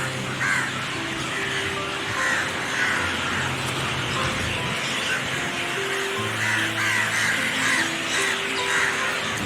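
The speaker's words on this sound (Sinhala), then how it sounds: "කුරුල්ලන්ගේ සද්දේ." Crows caw repeatedly alongside other birds at Kandy lake at dawn, set over a steady outdoor hum. The calls come in clusters at moderate distance, with no one speaking.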